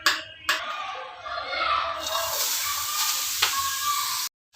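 Grated carrot for a large batch of carrot halwa tipped into a hot kadhai on a gas stove: a couple of clunks, then a sustained bright sizzle close by, ending in a brief silence.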